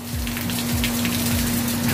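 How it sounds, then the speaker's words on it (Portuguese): Rain falls steadily on a surface at the coast of Boiçucanga in São Paulo's north shore, a dense continuous patter with a low steady hum underneath, close and fairly loud, with no talk. "Não, espera parar a chuva, quem sabe."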